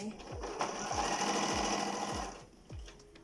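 A sewing machine stitching cloth for homemade loose trousers made from a checked cotton waist cloth, whirring steadily for about two seconds with rhythmic low thumps, then stopping before a brief restart.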